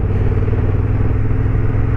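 Honda CB750 motorcycle climbing a Himachal Pradesh mountain road in fourth or fifth gear, a loud, steady engine drone with wind rumble close at the rider's position.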